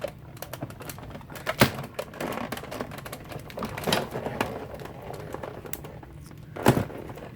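A manual die cutting machine with a precision plate runs crafting dies through, giving steady mechanical clicking and grinding with a few louder thunks, fairly close and with no talk.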